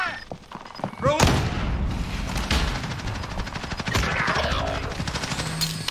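Rapid bursts of automatic gunfire and sharp shots from a battle royale video game, with Claymore explosives mentioned, rattling steadily through the clip alongside booms, with players talking over the din.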